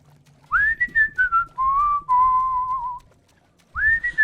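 A person whistles a cartoon theme song, a clear melodic tune of sliding and held notes with short pauses between phrases, close and loud with a faint low hum beneath.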